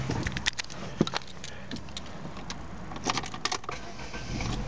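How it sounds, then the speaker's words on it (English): A Vauxhall Zafira engine starting, with jingling keys and brief clicks, then a faint low idle settling in close by, with no talk. "Vehicle starts nicely."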